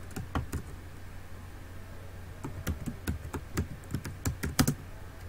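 Typing on a computer keyboard during a Camtasia Studio 9 editing session: a sparse few taps at first, then a steadier run of crisp, close keystrokes in irregular rhythm, quiet and without speech.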